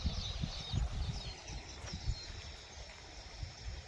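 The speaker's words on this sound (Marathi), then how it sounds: "आवाज येतोय बघा पाणी कसलं आहे" Stream water flowing down from the hills murmurs steadily in the background, with low rumbling gusts and faint bird calls high above.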